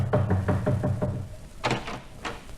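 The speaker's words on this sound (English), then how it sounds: "I've been knocking for 5 minutes." Knuckles rap on a hotel room door in several quick, firm bursts, a cluster of loud knocks followed by a pause and two more separate knocks, close by with no talking.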